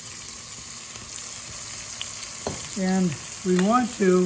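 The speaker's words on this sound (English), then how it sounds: "saute these onions" Onions sauteing in butter in a pan for French onion soup give a steady broadband sizzle, with a person talking over the second half.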